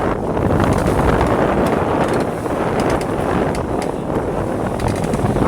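Strong wind buffeting a small fishing boat out on rough seas, a constant loud roar of gusts across the microphone with churning water beneath, no talking.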